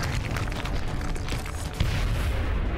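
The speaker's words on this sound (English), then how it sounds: "Check your position, rocket off course." Rocket explosion in the tactical video game XCOM: Enemy Unknown: a dense, rumbling blast with sustained low-end roar and crackle filling the whole moment, loud and close, with no talk over it.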